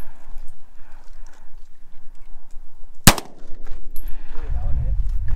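A single loud, close gunshot at an outdoor family shooting range cracks once midway, surrounded by soft talk and background rustle.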